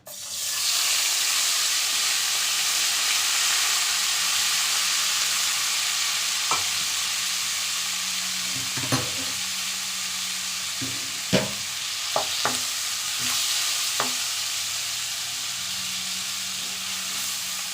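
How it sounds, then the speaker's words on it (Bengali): Onion paste and tomato fry in hot oil for a Bengali katla fish curry, a continuous loud sizzle broken by occasional sharp spoon knocks and scrapes against the pan. "আমি এখানে পেঁয়াজ বাটা আর টমেটো একসাথে দিয়ে দিচ্ছি, একটা টমেটো দিচ্ছি।"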